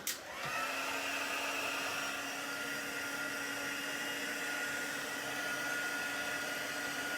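A heat tool switches on after a brief click and blows hot air to dry watercolour paint on paper, a loud steady whine with a rushing airflow hiss that runs on unbroken, with no voices.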